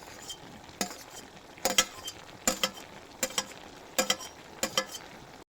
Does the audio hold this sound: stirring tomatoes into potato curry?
yes